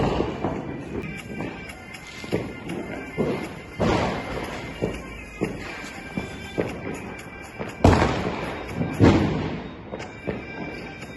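Diwali firecrackers go off in a string of sharp bangs and thuds, some near and loud, others more distant, with crackling bursts scattered across the stretch.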